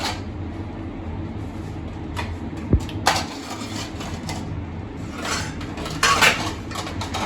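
Steel plates and dishes handled in a village home kitchen, with a few sharp clanks and clatters over a low background murmur, close by.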